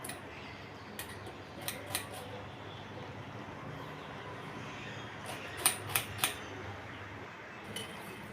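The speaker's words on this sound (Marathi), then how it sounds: "बारीक कापून घ्यायचा आहे कांदा" A knife finely chops an onion with a few sparse, light taps, then a short cluster of sharper clicks near the end, all quiet and close.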